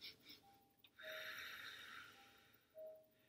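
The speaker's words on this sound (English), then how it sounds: "where you're sniffing up in like a bunny." Quick nasal sniffs are followed by a long, breathy inhale, then another short sniffing breath, close and fairly quiet.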